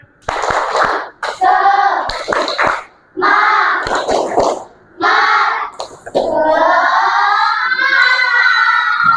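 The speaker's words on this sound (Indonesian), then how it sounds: "Tepuk semangat." A rhythmic clap-and-chant energizer performed by a group in a classroom icebreaker: short bursts of sharp claps alternate with shouted chanted words, closing in a long, loud, drawn-out group call.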